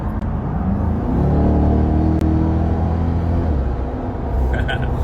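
A car engine revving loud and close, a heavy rumble that builds and holds steady for several seconds.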